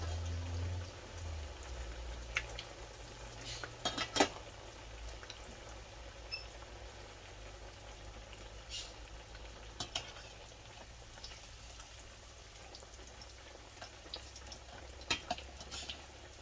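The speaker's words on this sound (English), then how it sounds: "ready to cook the schnitzel, and the carrots and the potatoes are nearly done" Chicken schnitzel in breadcrumbs fries gently in a pan over moderate heat, a soft, quiet sizzle with a few louder pops and clinks throughout, no talking.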